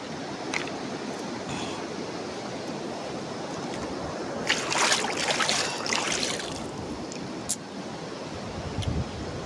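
Steady rushing river water fills the whole stretch, with a louder splashy surge in the middle and brief bumps as hands are washed, close to the microphone.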